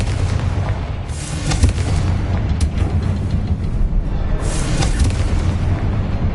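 A Confringo fire-spell explosion in Hogwarts Legacy, a dense, loud, rumbling blast with a sustained roaring boom and crackling bursts that fill the whole moment, with no speech over it.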